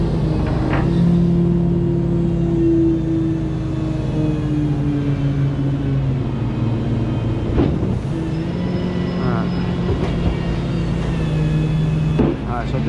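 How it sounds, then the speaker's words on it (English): Tow truck engine idling and pulling away after unloading a Mercedes-Benz E300, a steady low rumble with shifting engine tones throughout, continuous and fairly close. "And I'll move the truck so we're not bothering anybody."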